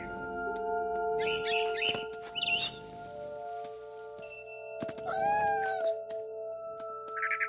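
A cat meows in What Remains of Edith Finch, two drawn-out wavering cries a few seconds apart, after brief high bird chirps, over sustained soft game music tones.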